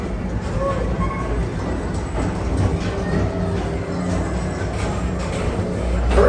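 Disney Peoplemover ride vehicle in Tomorrowland at Magic Kingdom rolling along its track with a continuous low rumble and faint clatter, steady and fairly loud, a recorded narration voice murmuring underneath.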